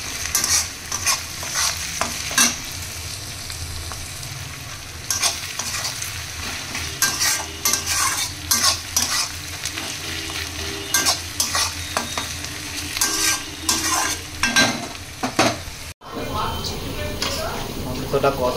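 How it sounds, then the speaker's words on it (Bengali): Mutton pieces sizzle in a hot frying pan with fried onions as they are sautéed into kosha, while a spatula scrapes and stirs in repeated bursts and voices talk over the cooking. "মাংসটা কষা হচ্ছে।"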